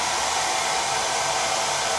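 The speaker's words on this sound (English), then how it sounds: "Here's the hair dryer. I'm gonna turn it on and dry it." A hair dryer runs steadily at close range, a loud, even airy whoosh with a motor hum and no pauses or voices.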